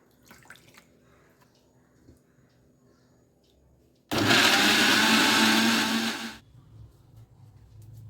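An electric mixer jar grinds spinach, garlic, green chillies and ginger into a paste, a single loud whirring roar lasting about two seconds that starts abruptly and cuts off, preceded and followed by quiet kitchen rustling.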